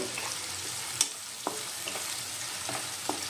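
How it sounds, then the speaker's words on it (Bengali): Chopped onions fry in hot oil over a high gas flame while a crab curry is being made, a soft, even hiss broken by a few light stirring knocks. "এখন পেঁয়াজগুলো একটু ভালো মতো ভেজে নেব"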